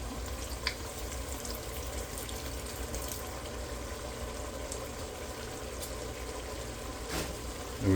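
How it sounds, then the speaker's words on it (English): Vodka hits a hot pan and sizzles steadily at low level, a soft continuous frying hiss with a few faint clinks. "Absolute vodka. I'm going to pour that right in the pan."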